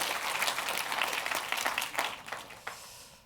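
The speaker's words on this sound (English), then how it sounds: "let's start with a round of applause for our UK Top 75 this year" A conference audience at the BrandZ UK 2019 brand event gives a dense round of applause that starts loud and thins out over about three seconds, with a few last claps near the end.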